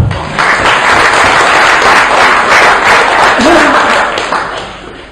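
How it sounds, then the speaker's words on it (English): Loud audience applause at a lecture introducing Professor Chris French, a dense continuous wash of clapping that starts abruptly, holds steady and fades slightly at the close, with a brief murmur of voices. "Round of applause for Chris French"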